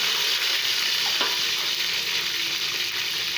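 Meat goes into a pot of browned onions, setting off a loud, continuous sizzle and crackle of frying, with a brief stirring scrape partway through and no voices.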